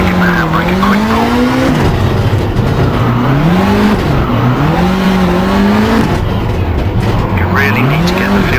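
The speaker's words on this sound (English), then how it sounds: "Before the corner, turn hard into it, then give the handbrake a quick pull." A rally car in Richard Burns Rally is pitched hard into a hairpin with a handbrake pull. The engine drones loudly and rises and falls in pitch, with sustained tyre skidding and squeal throughout.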